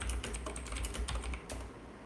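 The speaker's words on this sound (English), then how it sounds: "And I'll say no and type in my password." Computer keyboard keys tapped in a short, quick burst while a password is typed, close and fairly quiet, with a faint low room hum beneath and no voice.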